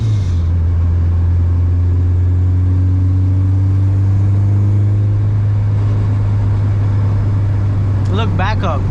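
Supercharged K24-powered car rolling in third gear on a five-speed, a steady low engine drone close by for several seconds with faint rising whine, then a brief burst of louder noise near the end.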